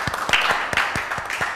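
A small group claps during a Music Day talk show. Hand claps land in a quick, uneven rhythm, close and fairly loud, over a short burst.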